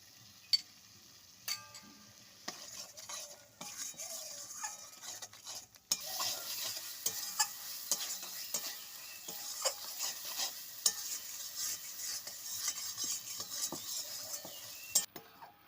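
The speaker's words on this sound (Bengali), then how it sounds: "মশলাটা আমি খুব ভালো করে কষিয়ে নিয়েছি" Masala mixed with sour curd is stirred and sautéed in a pan for potol dorma, with scattered spatula scrapes and clinks at first, then a fuller, steady sizzle and repeated stirring strokes that continue to the end, with no voices.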